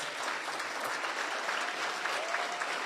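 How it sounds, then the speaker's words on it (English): Sustained applause from a large standing audience at a business luncheon, dense and steady clapping throughout without a break. "Please stand for one more round of applause."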